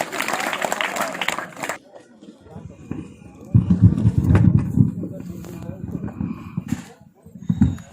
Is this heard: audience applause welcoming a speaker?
yes